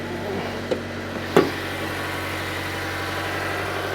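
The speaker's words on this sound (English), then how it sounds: "Ooh, and the engine kicked on that time." A 2024 Mazda CX-90 PHEV plug-in hybrid engine kicks on under the hood, a brief start-up burst near the beginning that settles into a low, steady idle hum.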